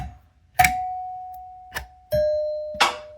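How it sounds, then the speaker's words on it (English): A Wyze Doorbell v2 chime rings with clear sustained electronic tones, a struck-and-held note followed by a second ding, then another, each ringing out and slowly decaying, loud and close with no talk. "when you release the doorbell button, you only get the ding for the back"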